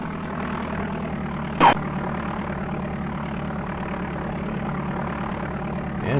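Small propeller aircraft rolling onto runway 31 at Peoria International in DOS Flight Simulator 4, a steady droning engine hum with one brief sharp chirp partway through, no voices.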